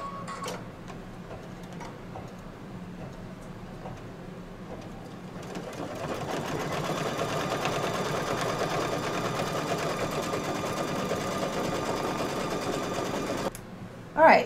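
An embroidery machine stitches a tack-down line across hooped fabric, starting partway in with a steady rapid ticking hum that runs several seconds before stopping abruptly, with a quiet voice now and then.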